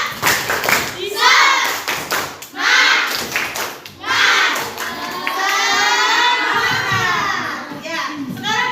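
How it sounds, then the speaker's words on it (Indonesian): Schoolchildren in a classroom perform a rhythmic group clapping chant, their loud voices shouting along in bursts with claps mixed in, building to a sustained, lively group chant. "kita tepuk semangat dulu agar lebih semangat dalam belajar ya"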